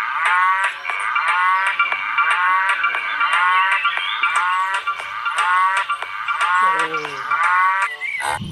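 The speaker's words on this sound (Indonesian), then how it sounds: "lihat di sini ada hewan sapi." A cow moos loudly and close over and over in long, bellowing calls with a rough, buzzing tone, overlapping one another almost without pause and ending with a short lower groan.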